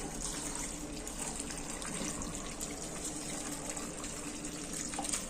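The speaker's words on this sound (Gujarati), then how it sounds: "પાણી આપણે એડ કરીશું" Water pours steadily into a pot of raw mango pieces, a continuous gushing splash with no pauses and no voices.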